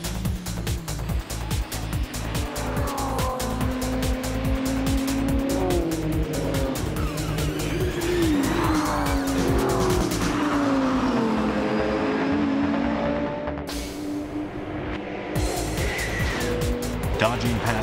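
Race cars lap the Nürburgring during the 24-hour endurance race, their engines roaring loudly and rising and falling in pitch as they pass, with tires squealing and a sudden cut to another high-revving car near the end.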